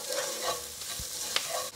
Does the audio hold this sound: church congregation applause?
no